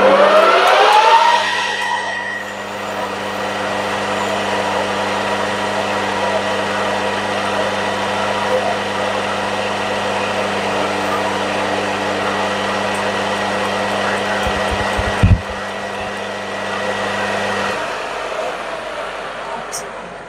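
A metal lathe takes a very fine cut on a brake shaft part, giving a steady whining hum with a high tonal drone that holds evenly before the machine stops near the end.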